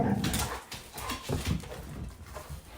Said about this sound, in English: That's my dog playing.